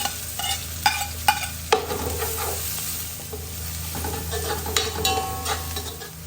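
Chopped onion dropped into hot oil for pork pinapaitan, already browned with toasted ginger and garlic: a steady, close sizzle and crackle with repeated scrapes and clinks of a spatula stirring against the pan, no talking.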